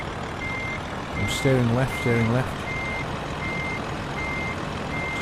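Repeated reversing beeps from a truck in Euro Truck Simulator 2, steady evenly spaced tones over a low engine rumble, with someone talking over them.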